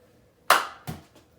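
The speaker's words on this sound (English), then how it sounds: "that added challenge is just clapping while the ball is in the air" Two sharp hand claps while a ball is tossed in a children's K-2 class exercise, a loud clap followed by a softer second one in a quiet room.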